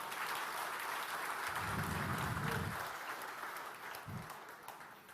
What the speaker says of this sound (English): And I want a round of applause for that.